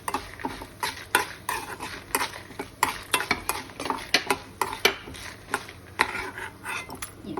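Dried chillies frying in oil in a pan, stirred with a utensil: sharp metallic scrapes and clinks in an irregular rhythm over a low sizzle, close and fairly loud.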